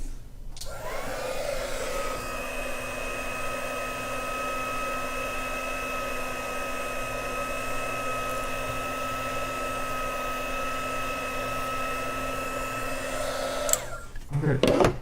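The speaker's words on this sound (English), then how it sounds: "I can use a small blower" A small blower drying paint on a brush painting runs with a continuous whooshing hum at close range for about thirteen seconds, then clicks off.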